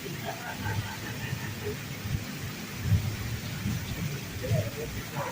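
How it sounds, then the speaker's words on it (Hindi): Heavy rain pours during a thunderstorm in Uthal, Balochistan, a dense hiss over low rolling rumbles of thunder that swell and fade, with faint background noise. "अब यहाँ भी तेज़ बारिश हो रही है"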